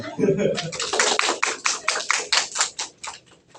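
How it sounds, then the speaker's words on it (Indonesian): A classroom of students claps in a short burst of sharp, rhythmic hand claps that gradually slows and fades, starting just after a brief spoken voice. "Tepuk tangan"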